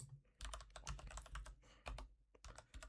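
Quick, clattering keystrokes on a computer keyboard as a list is typed, coming in bursts with short pauses, close and clear with no talking.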